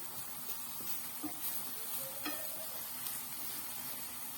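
Eggplant slices frying in a pan for moussaka with little oil, a steady soft sizzle and hiss with occasional small pops and stirring taps, close and unbroken.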